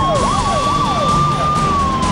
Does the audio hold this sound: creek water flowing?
no